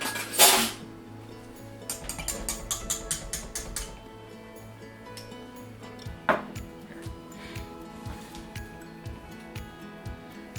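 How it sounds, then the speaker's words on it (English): Cream cheese gets broken up and stirred into beer in a bowl, giving a run of clinking, scraping knocks from a utensil against the bowl, irregular and close, with a louder clatter at the start. "I'm just going to try and break up the cream cheese, mix it in with the beer."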